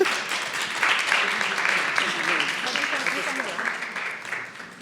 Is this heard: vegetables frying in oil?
no